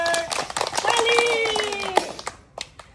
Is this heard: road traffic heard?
no